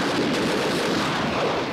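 Dense, continuous gunfire, a loud, close, unbroken roar of rapid shots from a wartime battle scene, heard with no speech over it.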